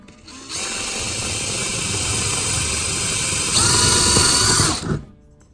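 Power drill boring a hole into a wooden stud, running steadily and loud for about four seconds, rising in pitch near the end before winding down.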